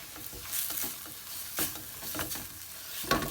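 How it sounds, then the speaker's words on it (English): A spoon stirs chicken through masala sauce in a hot pan, giving repeated scraping strokes over a soft sizzle, close up with no voices. "So mix that all up so the chicken is nicely covered with the masala."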